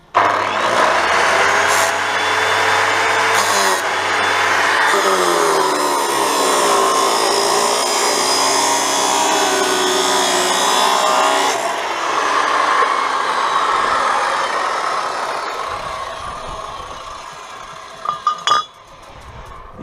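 A large angle grinder whines through a long, steady cut, then spins down and stops. A few metallic clinks follow near the end.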